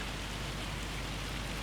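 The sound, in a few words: hail falling in a video game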